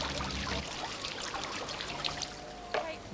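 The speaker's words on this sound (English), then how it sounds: "You're going to watch the water come down the chute" Water pouring down a chute at a children's play area, a steady close trickling stream with splashy bursts, fairly quiet, with faint background voices.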